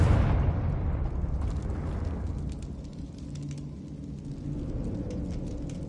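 A Confringo blasting spell in Hogwarts Legacy bursts with a loud low explosive boom that rolls into a rumbling, crackling fiery tail, then settles into a sustained low roar with faint scattered crackles.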